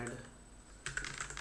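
Computer keyboard typing while writing Go code for a note app, a few soft clicks at first, then a quicker burst of keystrokes near the end, close and fairly quiet.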